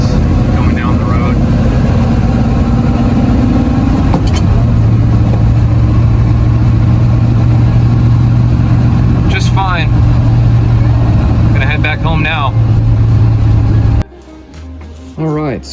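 A 1970 Plymouth Custom Suburban station wagon drives down the road with a loud, steady engine drone and road rumble. The engine note shifts pitch partway through, and faint voices come through briefly.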